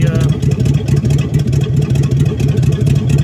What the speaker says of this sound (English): You can hear an exhaust leak, of course.